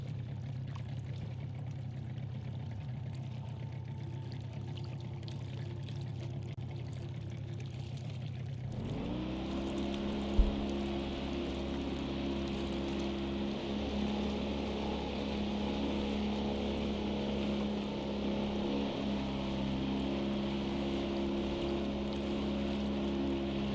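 A steady mechanical engine hum starts abruptly partway through, a continuous droning motor with a brief click, a slow boat chugging along in the game Kona II: Brume.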